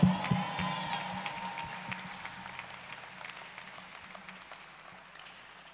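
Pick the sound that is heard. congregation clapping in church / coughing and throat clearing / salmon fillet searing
congregation clapping in church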